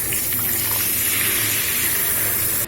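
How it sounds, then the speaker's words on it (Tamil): Half a glass of water pours steadily into crab masala in a pan, a continuous close splashing gush lasting a few seconds with no talk. "இப்போ ஒரு அரை கிளாஸ் அளவுக்கு தண்ணி ஊற்ற போறோம்."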